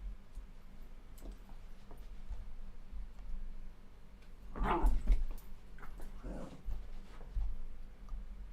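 A dog gives a couple of short barks and whimpers indoors, fairly faint and somewhat distant, over a quiet ticking background.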